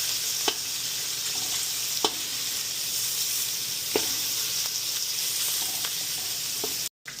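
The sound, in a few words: meat frying in its own oil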